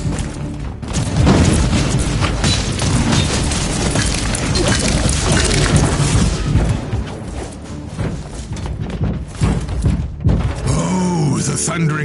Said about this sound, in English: Oh, the thundering blast of weapons.